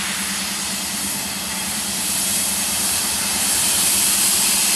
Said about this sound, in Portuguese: Esse Helper é formado apenas por uma locomotiva AC-44I